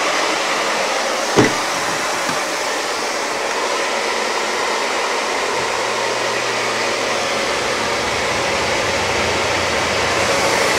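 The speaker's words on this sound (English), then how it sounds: "It's a good idea to turn on the ventilation fan because it gets quite smelly." Steady, loud broadband whoosh of a ventilation fan running in a workshop while a propane tank is converted into an air tank, droning on unchanged, with a single brief knock near the start and a faint low hum later.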